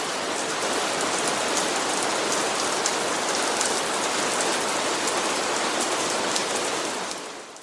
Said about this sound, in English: Not only from the onslaught of a million percussive beats of raindrops on the ice all around us